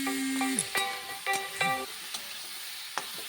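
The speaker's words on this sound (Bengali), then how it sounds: "দিয়ে নেড়ে চেড়ে সুন্দর করে আবার মশলাটাকে 10 মিনিট মতন কষিয়ে নিতে হবে।" Spice paste for a bottle gourd and potato curry being stirred in a pan, with a steady soft sizzle and a few sharp spatula scrapes and metallic clinks against the pan throughout.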